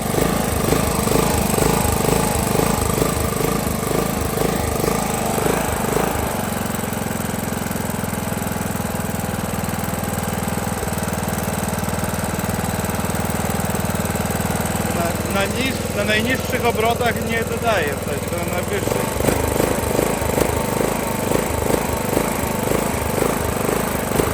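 A lawn mower engine runs throughout with a steady, rough mechanical drone at low idle revs. The drone dips to a quieter, smoother hum partway through, then swells back to a louder rattling run near the end.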